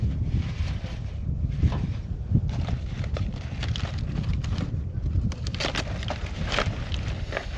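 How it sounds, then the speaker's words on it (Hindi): Strong wind blowing through a jungle near Islamabad, heard as a steady, rough gusting rumble with scattered rustles and knocks, fairly close to the microphone, with no one talking. "ये बहुत तेज हवा है यार।"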